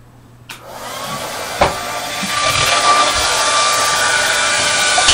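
A hair dryer clicks on and blows steadily to dry artwork, a loud, even whooshing hum sustained after a brief knock, with no talking.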